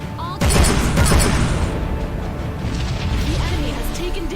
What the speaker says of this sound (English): We're going to engage in kinetic fisticuffs, though. All cannons fire.